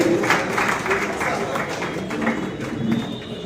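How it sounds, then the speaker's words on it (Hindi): Audience applause greets an honouree at a literary award ceremony for the Sahitya Saraswati Samman, moderate rippling clapping from a seated crowd with some speech mixed in. "कृपया ताली बजाकर सभी स्वागत करें"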